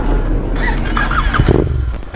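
A Yamaha MT01 1700cc motorcycle engine turns over and catches. The loud, close starter whine and squeal give way to a rough, throbbing idle beneath steady background rumble.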